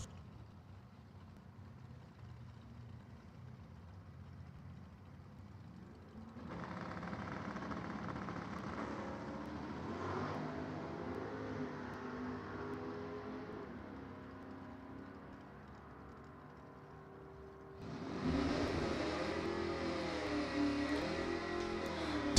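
A pack of Super Comp drag racing cars idles and creeps forward in the staging lanes at an NHRA divisional race, a steady rumbling engine drone that swells louder partway through and again near the end.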